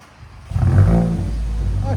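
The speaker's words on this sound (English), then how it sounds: "2025 GTI with muffler and resonator delete" A 2025 VW Golf GTI with a 2.0L turbo and its muffler and resonator deleted barks into a sudden, loud, raspy rev that holds as a deep drone. The exhaust is close and dominant, with faint voices nearby.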